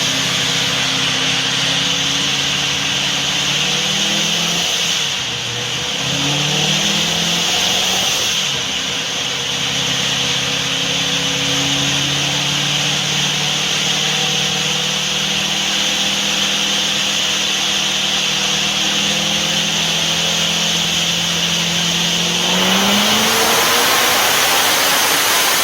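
A boosted C6 Corvette strains through a sustained dyno pull, its engine note climbing steadily for over twenty seconds with loud, continuous exhaust roar and a rising pitch toward the end, no voices over it.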